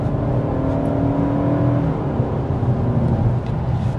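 Engine and drivetrain of a 2025 Toyota Camry SE or Corolla XLE hybrid with eCVT accelerating, a steady continuous whir and hum heard from inside, fairly loud and even throughout.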